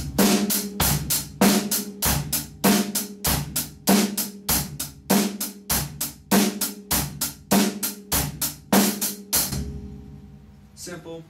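A drum kit plays a simple, basic rock groove: steady kick and snare backbeat with cymbal hits in an even repeating pattern, loud and close, stopping with a brief ringing decay at the end.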